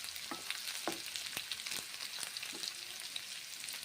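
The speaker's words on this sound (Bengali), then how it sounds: "এইভাবে পেঁয়াজগুলোকে ভেজে নিলাম, এখন ভেজে নিচ্ছি" Onions frying in a pan, a low steady crackle of hot oil with frequent spatula knocks and scrapes at an irregular pace, close and fairly quiet.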